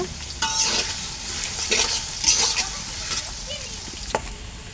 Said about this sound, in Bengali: এখন এই পেঁয়াজগুলো বাদামি কালার আসা পর্যন্ত ভেজে নেব